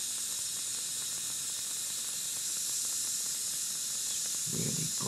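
A steady loud hiss of water boiling on solar power, under 70 watts, fills the clip, rushing and constant, with a few low bubbling thumps near the end.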